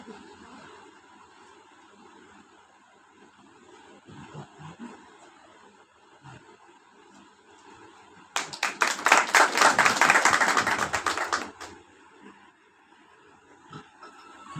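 Audience at an Uttarakhand theatre and film event applauds a theatre director and teacher as he arrives, a burst of loud, dense clapping lasting about four seconds amid quieter room sounds before and after.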